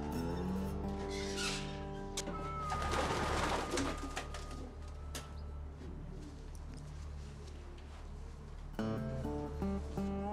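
Racing pigeons coo in a loft, low soft throaty calls repeating nearby, with a burst of wing flutter and rustling partway through and no talk over it.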